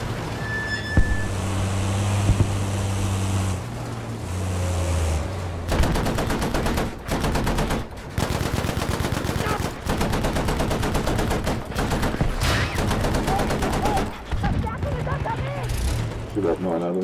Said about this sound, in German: Ich schieße einfach auf irgendwas.